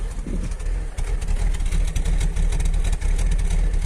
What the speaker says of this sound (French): je trouve que le ralenti est un peu instable